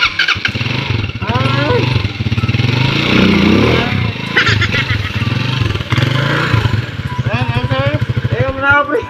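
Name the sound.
motorcycle engine straining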